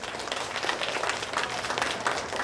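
An audience at a school reader's tea applauds its grade level winners, a dense burst of many hands clapping continuously at close range.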